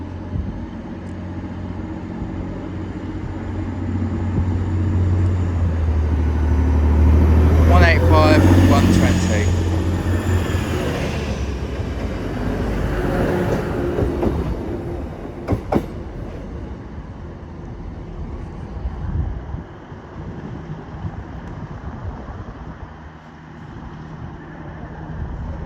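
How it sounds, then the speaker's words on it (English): An Intercity Express passenger train pulling out of Doncaster station on the East Coast Main Line, a loud low engine rumble with rolling wheel noise building and then easing as it leaves, with an announcement voice over it. "Now departing is the delayed 11:37 Intercity and Express service to Cleethorpes from Liverpool line Street."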